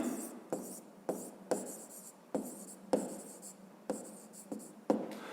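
Chalk or marker writing on a board during a physics lesson, a steady series of short scratchy strokes with sharp onsets repeating roughly every half second, fairly close and moderately quiet, with no talk over it.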